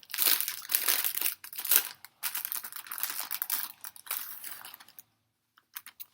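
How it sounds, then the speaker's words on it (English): Loud, close crinkling of plastic packaging in bursts of crackly rustling, with brief pauses and a few faint crackles at the end; no talking. "the crinkling's going to be loud"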